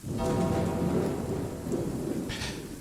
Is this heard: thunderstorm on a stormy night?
yes